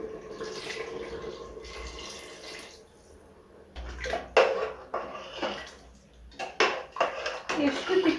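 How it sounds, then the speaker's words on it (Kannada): Water poured into a red chilli powder mix in a home kitchen, with splashy pouring and stirring bursts that come and go, near and moderately loud, alongside some handling clatter. "ಸೊ ಇದಕ್ಕೆ ನಾನು ನೀರು ಆ್ಯಡ್ ಮಾಡ್ಕೊಂಡೆ, ಸ್ವಲ್ಪ ಎಷ್ಟು ಬೇಕಷ್ಟು ನೀರು ಆ್ಯಡ್ ಮಾಡ್ಕೊತೀನಿ"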